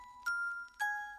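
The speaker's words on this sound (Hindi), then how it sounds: "देवांग, तू मेरी घंटी की आवाज पर पीछे आ" Bell sound effect from a Hindi horror audio drama: two clear metallic ding-dong strikes, each with a bright ringing tone that hangs and slowly decays, close and alone with no voices.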